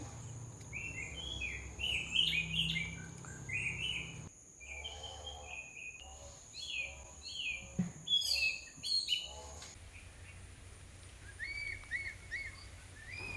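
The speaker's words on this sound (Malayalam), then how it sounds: "കുറച്ചിനം പക്ഷികളുടെ ശബ്ദങ്ങളൊക്കെ നമ്മൾക്ക് കേട്ടുകൊണ്ട്" Several birds chirp and twitter outdoors in short repeated calls, some near and some farther off, over quiet ambient background.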